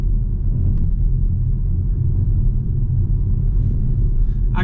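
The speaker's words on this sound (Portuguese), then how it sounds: "Aqui onde o piso é bem desnivelado, faz muito barulho de suspensão." Volvo C40 Ultimate electric car driving over an uneven, bumpy road, with a continuous low rumble of suspension and road noise from inside the cabin and occasional faint knocks.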